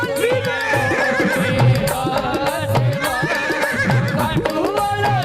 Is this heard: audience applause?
no